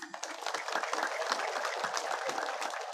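A church congregation claps together in sustained applause, a dense, even patter of many hands heard from a moderate distance, with a faint voice underneath.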